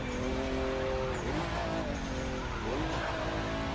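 In The Crew 2, a race car laps a track, its engine droning steadily with rising and falling revs as it shifts and accelerates through corners, loud and continuous throughout.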